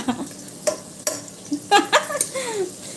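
Ginger garlic paste sautés toward brown in a pan for biryani, with a soft sizzle under several sharp spatula knocks and scrapes against the metal, close and fairly loud.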